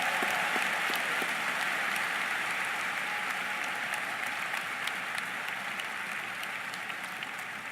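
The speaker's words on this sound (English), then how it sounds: "Give him a round of applause now" A commencement ceremony audience claps for an honorary degree recipient in a large hall, a steady wash of applause filling the space and fading slightly toward the end.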